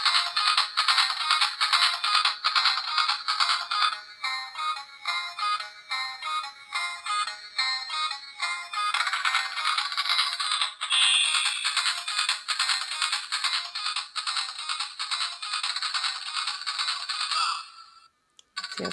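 A kids' AutoBrush Pro U-shaped electric toothbrush buzzes steadily and loudly up close, its high motor whine pulsing with a slight rattle for most of the stretch before cutting off near the end.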